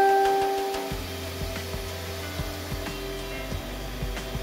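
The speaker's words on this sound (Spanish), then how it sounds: "Empezamos con la batidora apagada y enseguida nos ponemos a batir." An electric hand mixer beats cake batter for a milk sponge cake with chocolate, its steady motor hum starting after a brief quiet moment and running continuously close by.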